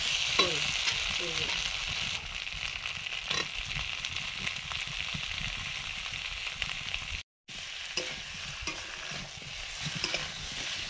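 Koi fish of about 200 grams stirred in a frying pan with a utensil, a steady sizzle beneath repeated scraping strokes, close and fairly loud, with one brief gap of silence and no talking.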